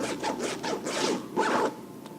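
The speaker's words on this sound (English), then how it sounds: "So let's do a stress test about the zippers." Backpack zipper on a Popcorn bag being run open and shut over and over, a steady series of close, raspy zipping strokes with short pauses between them.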